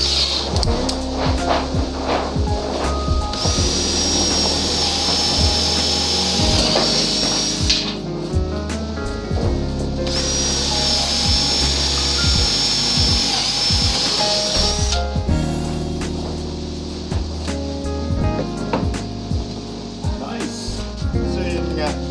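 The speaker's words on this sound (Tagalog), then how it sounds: "Isa to sa mga maangat na cordless drill natin, no?" A Lotus 18V LTHD18V cordless impact drill whirs in two long bursts, high-pitched motor whine over a person talking steadily throughout.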